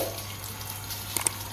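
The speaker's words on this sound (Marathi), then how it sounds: "दे पाणी, दे झाडाला" Water poured from a vessel onto a flowering plant outdoors, a faint, soft trickle and splash lasting a moment, quiet and close with no voices.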